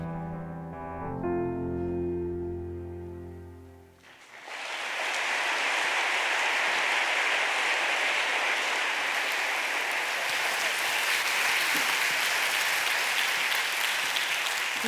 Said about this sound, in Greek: Νομίζω πως ένα χειροκρότημα δεν είναι αρκετό